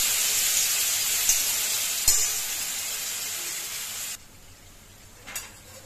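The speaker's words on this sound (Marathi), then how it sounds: "आणि हे टमाटर. हे थोडंसं भाजल्यानंतर 1 मिनिट भाजल्यानंतर" Tomatoes roast in a hot pan with garlic, giving a steady sizzle and hiss with a sharp clatter of stirring partway. The frying drops suddenly to a quieter simmer, then another brief stir sounds near the end.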